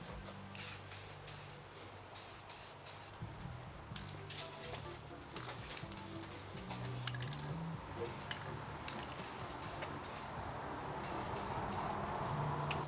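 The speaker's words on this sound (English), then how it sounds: "Spraying more silver." Silver spray paint hissing from an aerosol can onto a HasLab Proton Pack, coming in repeated short bursts with rattling and handling noises between them, fairly quiet and close.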